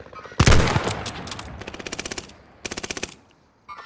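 Automatic gunfire in Call of Duty: Modern Warfare: a loud opening blast, then several rapid rhythmic bursts of machine-gun fire with short pauses, ending in a single sharp shot.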